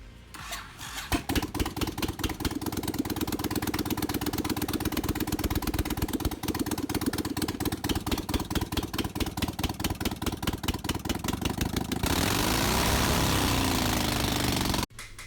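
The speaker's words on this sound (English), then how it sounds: "I decided to see if I could get the motorcycle started" A small bobber motorcycle engine cranks and sputters into a rapid, rough, pulsing idle, loud and close, before the tone shifts and cuts off abruptly.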